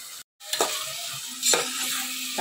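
Tomatoes and green chillies sauté in a pan for chicken biryani, giving a continuous close sizzle with stirring scrapes and a low steady hum; the sound cuts out briefly near the start.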